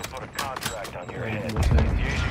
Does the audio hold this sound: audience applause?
no